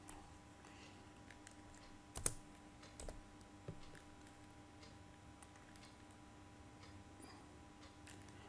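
Faint, sparse key clicks on a computer keyboard while entering a Python program, a few isolated taps spaced seconds apart over a quiet room hum.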